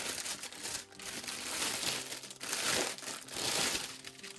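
Plastic packaging from a FEELOOK diamond painting kit crinkles and crumples close by in uneven bursts with brief pauses between them, and no one speaks.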